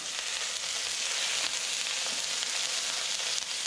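Onions and ginger sizzle loudly in a hot pan, a dense, constant frying hiss with no voices.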